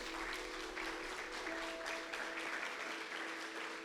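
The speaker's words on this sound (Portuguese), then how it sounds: "Você pode aplaudir ao Senhor." Steady, sustained applause from a large church congregation fills the space, with faint music or a held tone beneath it.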